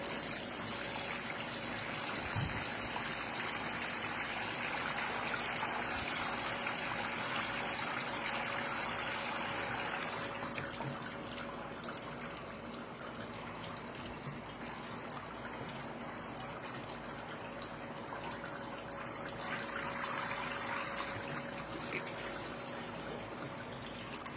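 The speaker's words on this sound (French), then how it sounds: "on prend l'arrosoir, puis on arrose encore" Water from a watering can pours steadily onto the soil of a potted citrus tree, a continuous trickling and splashing flow with no voices.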